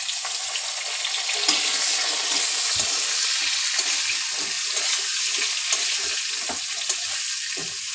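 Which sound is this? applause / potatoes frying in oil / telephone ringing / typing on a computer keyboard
potatoes frying in oil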